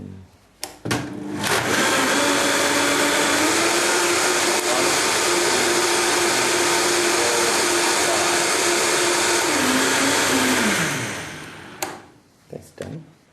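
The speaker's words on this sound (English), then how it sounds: "Beauty of a high-speed blender." A high-speed blender runs steadily for about ten seconds, blending tomato and carrot soup made with water, starting with a loud whir and winding down at the end, with a few clicks and handling noises around it.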